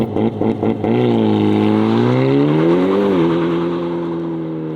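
A Hyundai i30 Sedan N launching under launch control, engine revving loud and close before the car pulls away with a long rising acceleration, a gear-shift dip near the middle, and brief wheel slip.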